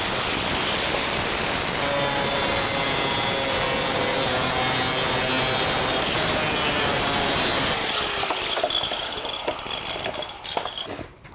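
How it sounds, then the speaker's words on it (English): An angle grinder cuts through the thin corrugated metal ribs of a carport roof panel, a loud continuous screeching whine with metallic rasping that holds steady for about eight seconds before tapering off and stopping. "this grinder is the greatest tool"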